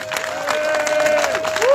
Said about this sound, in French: La CGT, applaudissez pour la CGT.